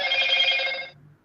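A mobile phone rings indoors during a casual live chat, a bright electronic tone sounding steadily for about a second before cutting off abruptly into near silence.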